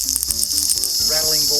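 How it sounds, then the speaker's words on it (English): At night in the Australian outback, cicadas and crickets keep up a loud, continuous high-pitched buzzing and chirring, with faint lower sounds beneath. "we can hear the cicadas in the background, the crickets, the frogs"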